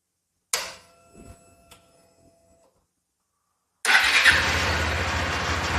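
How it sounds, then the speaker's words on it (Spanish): A few ringing clicks and faint rattles, a stretch of silence, then a Bajaj Dominar 400 motorcycle engine fires up and settles into a steady, loud idle. "Vamos a prender la motocicleta."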